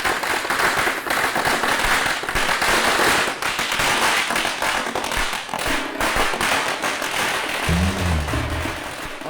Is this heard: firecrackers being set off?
yes